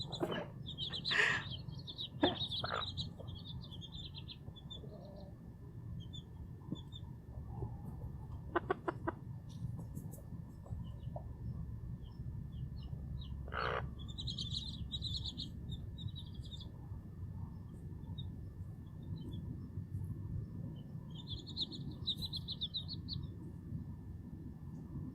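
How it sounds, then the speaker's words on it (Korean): A mother hen with fifteen newly hatched chicks: bursts of high, thin peeping and a few sharp clucks come and go over a quiet, low background, with no talking. "그 엄마 닭이 갓 태어난 사랑스러운 병아리 15마리"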